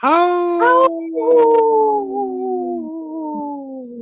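A wolf howls in one long, clear, sliding wail, rising briefly and then tapering down slowly, close and alone with no other sounds.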